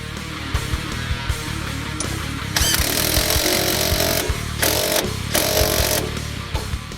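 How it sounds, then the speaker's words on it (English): An impact gun turns a shock absorber bolt while a Lakewood 50/50 drag shock is installed on a 2005-2014 Ford Mustang, sounding as loud buzzing bursts, one long run and several shorter ones, close by and alone. "This is another part where it's easier to use an impact gun."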